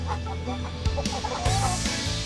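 Several laying hens cluck and murmur together at close range in a farm coop in the afternoon, with scattered squawks over a steady barnyard background.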